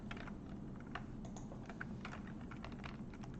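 Fast, quiet typing on a computer keyboard, a dense run of light key clicks at close range with no talking.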